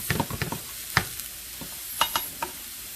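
Spanish rice with peppers is stirred in a cooking pot, with repeated scraping and knocking strokes of the spoon over a light sizzle, close and fairly loud in irregular bursts.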